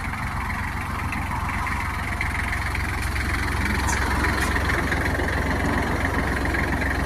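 A Kubota GL-32 Japanese semi-automatic tractor with a safety roll bar idles steadily at close range, its diesel engine giving a constant low chugging rumble with a slight knock throughout.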